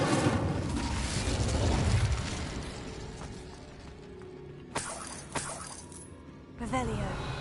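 Incendio fire spell cast in Hogwarts Legacy, a loud whooshing burst of flame that decays over several seconds, followed by a few sharp crackles and impacts.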